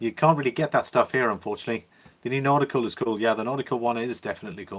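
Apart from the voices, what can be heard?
No everyday noise stands out behind the speech.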